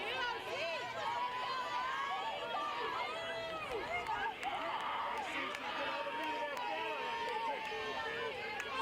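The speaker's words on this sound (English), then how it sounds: "The crowd, you can hear it in the background, really getting into this game" Spectators at a high school softball game between Hopkinton and Bridgewater-Raynham keep up a steady, lively crowd noise of cheering voices and chatter throughout, a continuous dense hubbub without pauses.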